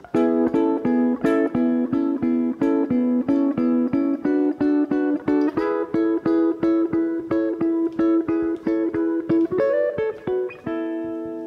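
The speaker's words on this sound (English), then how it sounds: "the fourth part of the loop is kind of like an outro guitar lick" A repeating outro guitar lick of quick plucked notes in steady rhythm, bright and close, shifting pitch near the end and ringing out alone.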